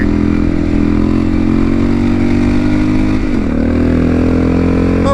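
Honda XR650L motorcycle engine drones loud and close at steady speed, then the note dips briefly and climbs again as the rider accelerates hard into a wheelie.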